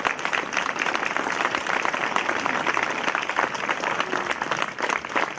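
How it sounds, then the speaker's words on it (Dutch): Applause for a departing drum major at an open-air marching band event in Grathem, a dense, steady clapping from a crowd that fills the whole stretch at an even loudness. "Dus een applaus voor onze afscheidnemende tambourmaître."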